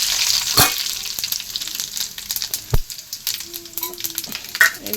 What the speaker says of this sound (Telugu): పోపుకి ఎండుమిర్చి, ఆవాలు, జీలకర్ర కలిపి వేసేసుకుంటున్నామండి